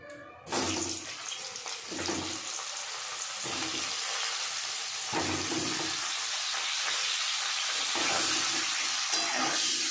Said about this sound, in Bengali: এবার আমি ফুলকপিটা ফ্রাই করে নেব।